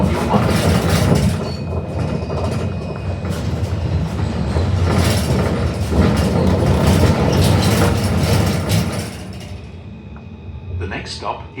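A Melbourne route 109 tram rolls along its rails with a steady rumble and clatter, heard from inside the car. A recorded announcement plays over the running noise, which eases off near the end.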